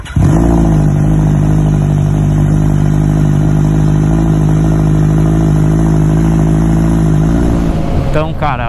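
A Kawasaki Z1000 motorcycle engine runs loud and close at a steady high idle, a strong throbbing drone that holds for several seconds before dropping off near the end.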